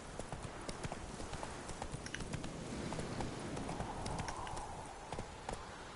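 Roach, Geralt's horse in The Witcher 3, gallops along a trail, with steady rapid hoofbeats running close and continuous across the whole stretch over a busy game soundscape.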